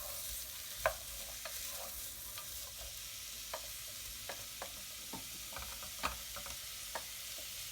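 Onions gently sweating in a pan for rougail saucisse, with a soft steady sizzle and occasional light clicks of a spoon stirring, quiet and close, no talking.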